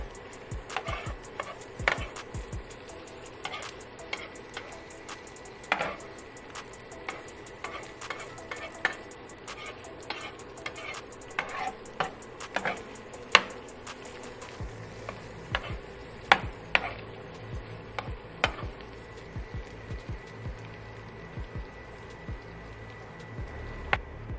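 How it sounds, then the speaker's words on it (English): Spatula chopping and scraping meat and cheese on a flat-top griddle for a New York chopped cheese: dense, irregular metallic clacks and taps over a steady sizzle, close and fairly loud throughout. "Just chop, get all the cheese acquainted with each other."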